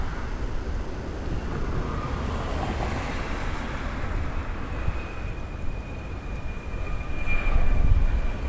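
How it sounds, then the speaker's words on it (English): A United Airlines airliner landing on runway 24L at LAX, its engine roar a steady, moderately distant rumble that swells slightly toward the end, mixed with wind noise and no talking. "we have United Airline is landing"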